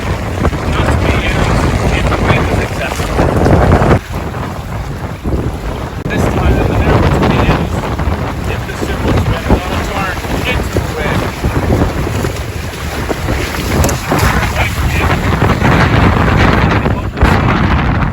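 Strong wind buffets the microphone aboard a Hobie Cat catamaran sailing on open water, with constant rushing roar, water splashing against the hulls and brief faint voices underneath.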